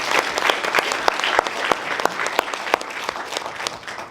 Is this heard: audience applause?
yes